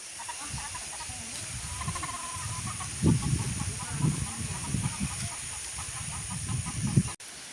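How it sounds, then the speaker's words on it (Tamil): Several chickens cluck softly and intermittently while foraging, with a steady hum in the background. "கோழி எல்லாத்தையும் இப்படியே திறந்து விட்டோன்னா பாருங்க அப்படியே ஓடி ஓடி மேயுது"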